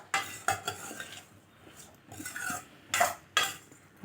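A spoon stirs vegetable pachadi in a pan, with a few sharp metallic scrapes and knocks against the pan between quieter pauses, close and clear with no talk.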